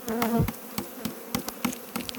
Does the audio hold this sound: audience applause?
no